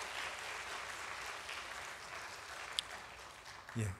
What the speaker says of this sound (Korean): 저희 큰 박수로 축복하겠습니다